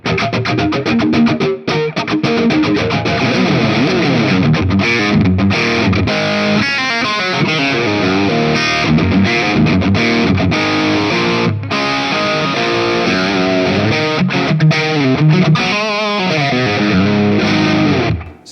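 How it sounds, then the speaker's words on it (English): An electric guitar is played through a G and R distortion preset on a Valeton GP-50 multi-effects unit, giving loud, continuous saturated chords and riffs with brief choppy stops, heard alone. "Oh, G and R distortion."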